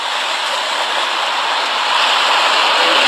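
Floodwater of the Llano River arm of LBJ lake rushing near the 2900 bridge, a steady loud broadband roar of flowing water with no pauses, close and continuous.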